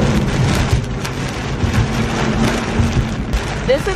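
Steady, dense rain falls outside, a continuous hiss with a low rumble of traffic beneath it and no pauses throughout.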